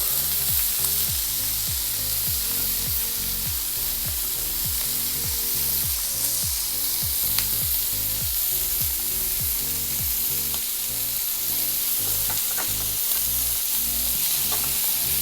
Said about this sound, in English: at this stage, we're going to go in and add our butter